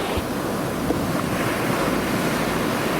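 Surf washes steadily onto a soft-sand beach at low tide, a continuous close roar of breaking waves mixed with gusting wind noise on the microphone and no voices.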